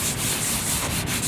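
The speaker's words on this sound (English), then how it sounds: "I'll take my flat side of my sanding sponge with the 150 medium grit on it, and I'll just take it off" A 150 medium grit sanding sponge rubs over car door paint in quick, close, steady strokes, a loud continuous scratchy hiss with no voices.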